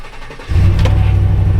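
GMC AT4 with a 6.2L V8 and a misfiring cylinder starting up: a brief quiet crank, then the engine catches and settles into a loud, close, steady low idle.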